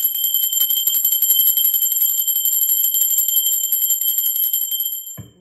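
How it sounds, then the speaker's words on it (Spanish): A bright, high bell rings in a steady sustained tone for several seconds, then cuts off abruptly with a soft low thump. "la campana es una frecuencia, una vibración de alta frecuencia"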